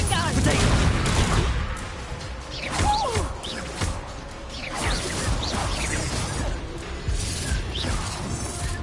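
Spell blasts from Confringo in the Hogwarts Legacy video game: repeated bursts and crashing impacts through dense battle noise, with overlapping voices shouting over the fight.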